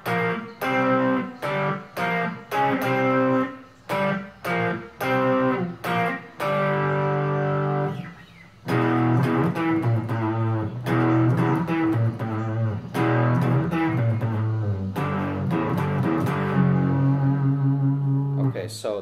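Epiphone Explorer electric guitar played through its center pickup with heavy distortion: a run of short, choppy chords gives way to dense, sustained distorted chords and riffs, loud and close.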